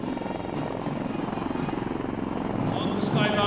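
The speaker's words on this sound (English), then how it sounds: "On the skyline, helicopters of 603, 10 Independent Aviation Brigade are approaching the salute to flags" Military helicopters of an independent aviation brigade fly past at an Army Day parade, a loud, close rhythmic rotor thump and engine drone with a commentator speaking over it.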